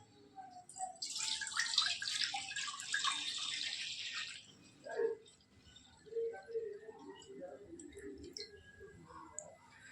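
Two litres of milk poured into a kadai for village-style rasgulla: a steady splashing pour runs for about three and a half seconds, then gives way to soft, scattered clinks and handling noises nearby.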